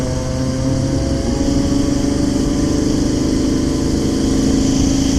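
A Yamaha XJ6 motorcycle idles through its exhaust, a loud, close, steady low engine burble that holds an even rhythm for several seconds, heard on its own.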